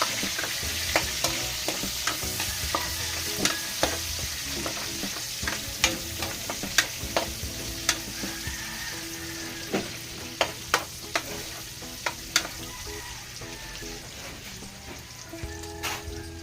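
Garlic, onion and tomatoes sauté in a hot pan with a steady sizzle, broken by frequent sharp clicks and scrapes of stirring spread through the whole clip, with no talking.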